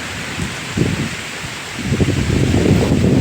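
Strong wind roars steadily during heavy rain, a loud broadband rush buffeting the microphone and rising in gusts toward the end, with no voices.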